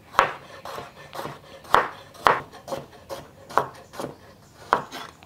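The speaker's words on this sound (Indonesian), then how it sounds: "Udah selesai rempah-rempah yang harus dipotong." Knife chopping fresh spices for soto seasoning on a cutting board, about ten crisp, uneven strokes in a slow, irregular rhythm, close and fairly loud, with no one speaking.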